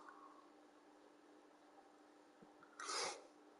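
A single short, sharp cough or sneeze-like burst from a person late in a quiet, faint stretch with soft background hiss and a little breathing.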